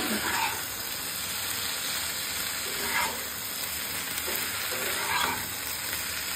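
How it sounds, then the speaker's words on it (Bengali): Vegetables and a fried egg stir-fried in a hot pan, giving a steady, close sizzling hiss broken by short bursts of stirring and scraping every couple of seconds. "দিয়ে আবারও ভালোভাবে কষিয়ে নেব।"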